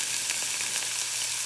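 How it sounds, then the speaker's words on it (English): Steady, loud sizzling of pork loin in a hot skillet, a continuous crackling hiss with small pops, no voices. "listen to that sizzle"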